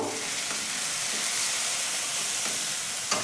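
A steady frying sizzle with soft stirring as chili powder, salt, turmeric and sugar are worked into a hot pan for Bengali rui posto, continuous and fairly close with no voices.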